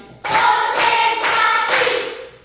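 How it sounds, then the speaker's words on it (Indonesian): A class of children claps in four loud, sustained bursts one after another, close and energetic, with brief gaps between them. "Tepuk 4 kali."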